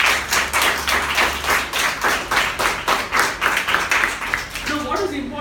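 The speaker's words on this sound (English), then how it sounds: "Give her a round of applause, please." Audience applause at a Gavel Club meeting in Bangalore: a close, steady round of rapid clapping that continues for about five seconds, then thins as a voice begins at the end.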